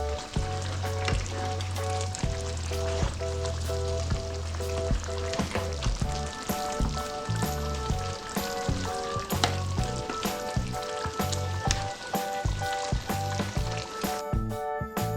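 Chilli pork belly sizzles and fries in a pan, with rhythmic scraping and stirring strokes over a steady crackling hiss, close and loud throughout.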